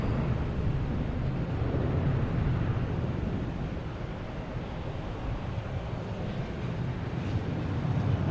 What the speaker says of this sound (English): Scandinavian Airlines heading back to Copenhagen